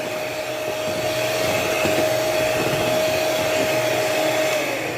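An electric mixer whirs steadily through a mango ice cream mixture, a loud continuous motor drone with a sustained whine that holds evenly for the whole stretch before easing slightly at the end.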